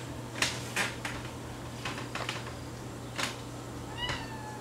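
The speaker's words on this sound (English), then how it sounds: "Cat's a finicky bitch." A pet cat meowing indoors, several short faint calls spaced across a few seconds over a low steady hum, with a light clink near the end.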